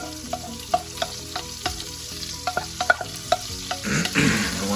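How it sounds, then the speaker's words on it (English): Onions sautéing in an Instant Pot for a pot roast: a low sizzle punctuated by a string of sharp utensil clacks and scrapes from stirring, with the hiss growing louder and denser near the end. "So I just saute those for a bit."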